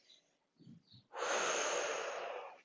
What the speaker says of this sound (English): Breathing, releasing.